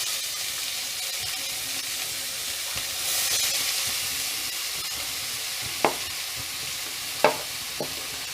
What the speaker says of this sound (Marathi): आता आपण बारीक चिरलेला कांदा टाकू